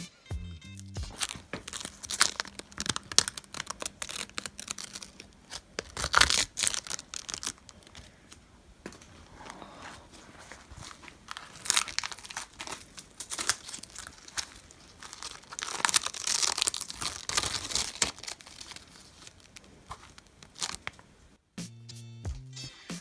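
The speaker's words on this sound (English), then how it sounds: "Take the tape off, it's gonna be satisfying." Tape peeled off a pair of hydro-dipped Yeezy sneakers, a steady run of close crinkling and tearing rips that carries on for about twenty seconds, with louder strips pulled off now and then and no talk.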